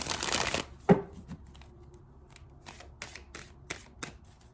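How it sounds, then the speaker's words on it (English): Playing cards are riffled in a quick ruffling burst, followed by scattered soft taps and snaps of cards being handled, close and quiet. "Just the sound of the shuffling of the cards, everyone."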